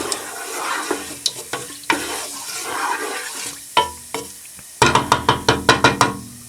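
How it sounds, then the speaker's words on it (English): Cumin seeds dropped into a small amount of hot oil for a dhaba-style rajma masala, giving a hissing sizzle with scattered clinks and stirring, then a loud run of sharp rhythmic pops and crackles near the end. "I'm gonna put zira in there now"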